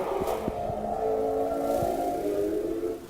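Porsche 918 hybrid V8 all-wheel-drive supercar at the Nürburgring, heard as a steady, fairly loud engine drone with a continuous tonal whine, sustained throughout with no pauses.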